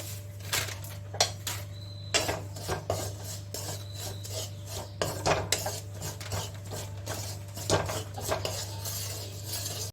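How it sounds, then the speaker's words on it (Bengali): Semolina dry-roasted in a pan with no ghee or oil for lemon upma, a spoon scraping and stirring the grains with a steady rasping, clinking rhythm over a low constant hum. "প্রথমে আমি সুজিটাকে ভেজে নিচ্ছি, কোনো ঘি বা তেল দিচ্ছি না।"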